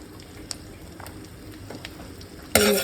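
Ginger and garlic hit hot butter in a pan, a loud sudden sizzle bursting in at the end after quiet kitchen background with a few light clinks.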